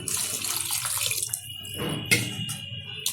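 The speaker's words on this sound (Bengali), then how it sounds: "দিয়ে দিচ্ছি পরিমাণ মতো জল," Water is poured from a container into a pan of chilli chicken, making a continuous splashing gush for a few seconds with a brief burst of louder pouring near the end.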